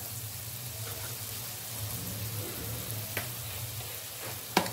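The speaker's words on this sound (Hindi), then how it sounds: "2 से 3 मिनट तक सिर्फ भूनूंगी" Onion masala frying in oil for chicken achar gosht, a steady soft sizzle over a low hum, broken by a few sharp spoon knocks against the pan near the end.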